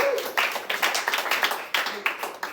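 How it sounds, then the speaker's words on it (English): Audience at a comedy show at Asylum NYC clapping in a short burst of rapid applause, close and lively, with crowd voices mixed in. "Clap it up for Bernstein."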